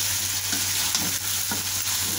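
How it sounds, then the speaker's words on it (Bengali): Chicken pasta being stirred with salt in a cooking pan, a steady frying sizzle with soft scraping strokes at a regular pace, close and continuous with no talk. "এখানে দিয়ে আমি প্রায় 10 মিনিটের মতো এটাকে সবগুলো লবণের সাথে মিশিয়ে নিব।"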